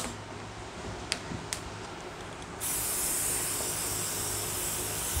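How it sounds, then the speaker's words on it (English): A couple of soft clicks, then a spray bottle lightly mists Swiss chard microgreens with a steady, close hiss of fine mist that continues to the end. "we are also going to spray the top of this and give it a light misting"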